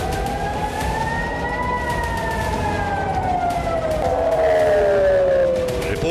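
Emergency sirens wail over Tel Aviv during a drone attack, with several overlapping rising and falling tones sweeping slowly and continuously, loud and steady throughout.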